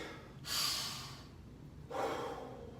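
Two slow, deep breaths, each a soft, airy rush of inhaling and exhaling, taken one after another in a quiet room during a relaxation and conditioning exercise.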